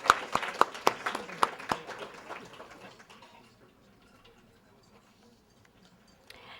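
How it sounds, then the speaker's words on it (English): Audience applause for the caterers after a dinner at a university writers' reading event, a burst of claps with sharp peaks that thins out over a few seconds and fades to quiet room tone. "Let's applaud all of these wonderful people who catered this delicious meal for us tonight."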